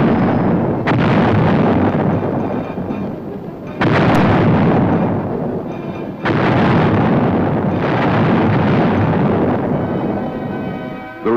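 Booming 155-millimeter howitzer artillery fire in Vietnam, 1969, with several heavy blasts, each a sharp crack that rolls into a long rumbling decay, loud and distant-sounding.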